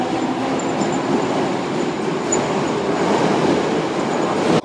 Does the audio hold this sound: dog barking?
no